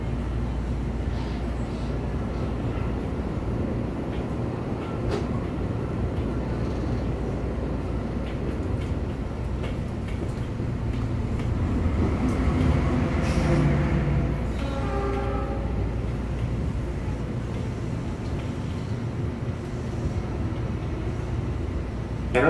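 A KRL electric commuter train near Jakarta Kota station rumbles along with a steady low roar and rattling, with faint chimes or a muffled announcement partway through.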